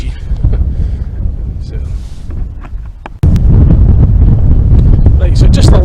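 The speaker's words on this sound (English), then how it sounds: "It's pretty breezy." Strong wind buffets the microphone on a breezy Scottish coast near Buddo Rock, a loud, continuous low roar that swells partway through, with a brief spoken word.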